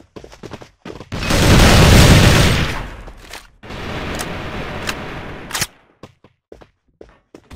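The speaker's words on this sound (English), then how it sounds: "Grenade out!" A grenade goes off in the shooter game Assault Fire, a loud close blast with a long roaring rumble, followed by a second softer explosion and then scattered sharp gunshots.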